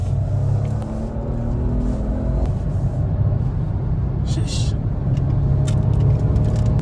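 A Renault Clio 5 with the 1.0 TCe 100 hp engine pulling hard in sport mode, a steady loud engine drone and road rumble from inside the cabin, with a brief voice over it.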